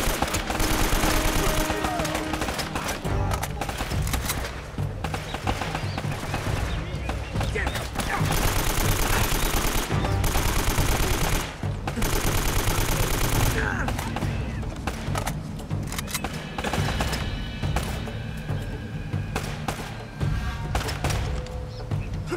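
AK rifle fire in the video game Uncharted: Drake's Fortune rattles out in loud, dense automatic bursts that run nearly the whole time, with brief lulls between volleys and game noise underneath.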